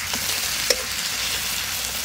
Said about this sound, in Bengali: এবার রসুনটা দিয়ে দিচ্ছি এর মধ্যে, ভেজে নেবো এর সাথে আমি